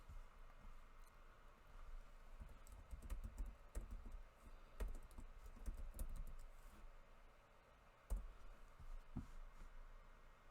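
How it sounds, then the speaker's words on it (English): Faint, irregular clicking of computer keyboard typing comes in quick bursts with short pauses, quiet and close, with no voices. "type in mom again in all caps"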